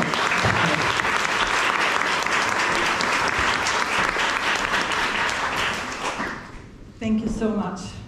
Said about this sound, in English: with a round of applause and welcome her to tell us more